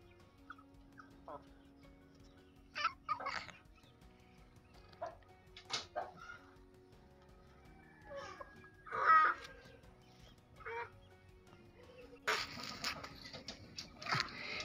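Two-month-old Bangkok chicken chicks let out in the late afternoon cluck and chirp in scattered short calls, fairly faint and outdoors, with a louder burst of noise near the end.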